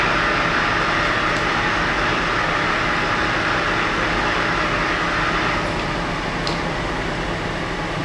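A metal lathe spindle turns at its lowest speed of 40 RPM, a loud, steady mechanical rumble and whir that holds evenly from start to finish.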